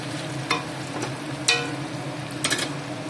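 Potato pieces fry in hot oil in a pan, giving a steady soft sizzle broken by a few sharp crackles and stirring clatters, with no talking.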